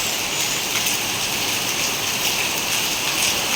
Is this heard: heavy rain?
yes